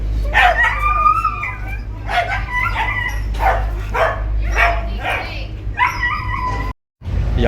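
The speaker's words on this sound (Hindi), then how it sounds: "उनके जो डॉग्स होते हैं वो उनके साथ इस तरह की आवाज़ें निकाल के रोना शुरू कर देते हैं" Dogs whine, yelp and bark in short bursts aboard a ferry bound for the Isle of Wight, over a steady low engine rumble, and the sound cuts out briefly near the end.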